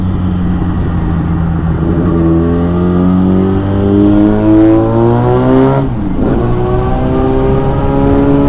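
Car engines drone and rev steadily nearby on a winding road, the pitch climbing and shifting as vehicles accelerate and pass through the curves.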